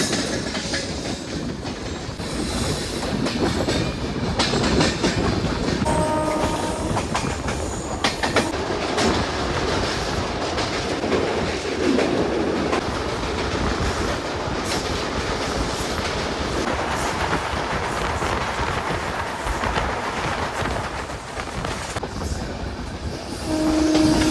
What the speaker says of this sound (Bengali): এটা হচ্ছে ভারত গৌরব ট্রেন। ভারত গৌরব টুরিস্ট ট্রেন।